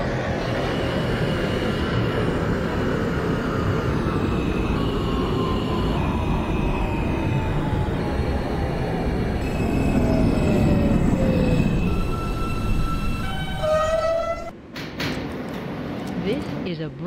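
An R160A R local subway train running in the OpenBVE simulator, a steady rumbling roll with gliding motor tones, then a descending chime and door sounds near the end.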